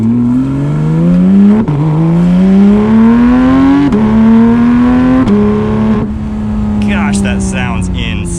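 Porsche 911 GT3 with a dual-clutch gearbox pulls hard from inside the cabin, its engine note climbing steadily and dropping sharply at three quick upshifts before easing off.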